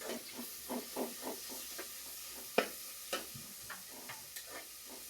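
Onions fry for mushroom biryani with a soft, steady sizzle and hiss, broken by repeated scraping knocks of a spatula stirring the pan, fairly faint and without talk.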